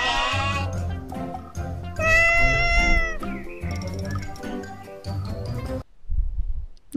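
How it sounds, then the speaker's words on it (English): A cat meows repeatedly, in loud drawn-out cries and caterwauls with pauses between them, set over a steady low musical backing. "C for cat."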